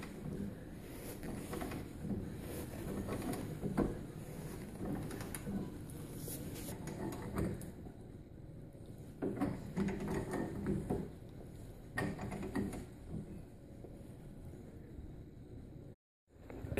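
A vise is cranked down on a car control arm while bushings are replaced on a third-generation Camaro or Firebird. Irregular metallic clicks, creaks and ratcheting knocks come close by, with a short silent gap near the end.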